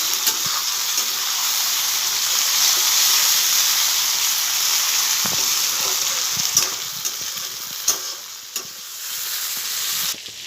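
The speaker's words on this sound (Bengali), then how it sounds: "মাছের তেলটা একটু ভাজা ভাজা হোক।" Bhetki fish fat sizzles loudly in a pan with onions, a dense hissing fry broken by scraping stir strokes and clinks of a spatula in the later part, close and continuous with no talking.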